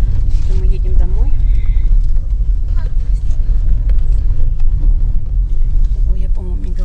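A car rolls along on the drive home, its low engine and road rumble steady and close inside the cabin, while people talk over it.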